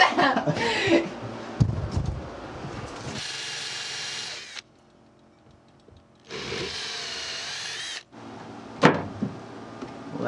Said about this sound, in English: You take this bit and you drill it through.